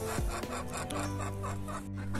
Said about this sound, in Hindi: ये मेरी मुर्गी ने शोर लगाया कि हमने बहुत सारे अंडे दे दिए